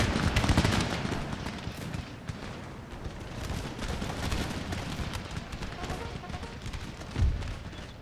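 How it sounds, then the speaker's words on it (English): An infantry regiment of foot opens fire in the Empire Total War battle of Martinique: dense crackling musket volleys and booms rattle continuously, loudest at the start with a heavy thump near the end, under a speaking voice. "22nd Regiment of Foot will open fire upon the enemy"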